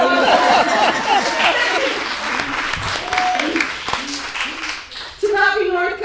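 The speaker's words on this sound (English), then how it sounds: "I forget how much this crowd loves to clap" A conference audience applauds its panelists: loud, dense clapping starts strong, then thins as a voice speaks over it, and it swells again briefly near the end with more talking.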